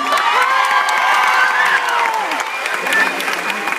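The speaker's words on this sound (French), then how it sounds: "Il mérite des applaudissements comme ça" Audience at a film premiere applauding and cheering, a dense, steady roar of clapping with whoops and high shouts running throughout, loud and close.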